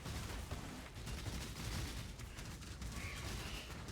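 Artillery ballista totems firing in Path of Exile, a dense volley of overlapping booms and bursts rolling continuously with no pauses.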